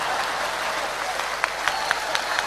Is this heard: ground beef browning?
no